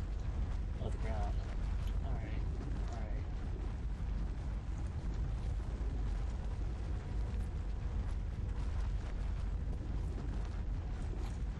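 A large mechanism screws down into the ground in the video game Papo & Yo, making a continuous grinding rumble with creaks and ratcheting clicks that holds steady throughout.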